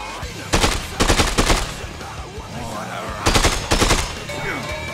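Two bursts of rapid gunfire from a freak-fighting scene, each a tight cluster of sharp loud shots, separated by a quieter stretch with a low background rumble.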